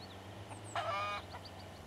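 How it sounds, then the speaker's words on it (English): Chickens in the survival video game Mist Survival, heard as a brief burst of calls in the middle of faint ambient game sound, with a few short, fainter chirps before and after. "There's also chickens here."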